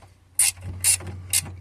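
A stubby ratchet works on a VW Passat B5, three quick bursts of fine clicking close by, evenly spaced against a low background hum.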